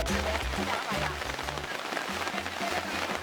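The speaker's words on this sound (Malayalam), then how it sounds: "പെട്ടെന്നാണ് ശക്തമായിട്ട് മഴ പെയ്തു തുടങ്ങി" Heavy rain pours down steadily at a waterfall, a dense wash of noise throughout, with low rumbling and murmuring voices underneath.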